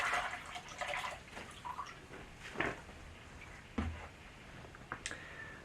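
Water rinsing the roots of an alocasia houseplant, soft splashing and trickling with scattered drips and small knocks, quiet and close.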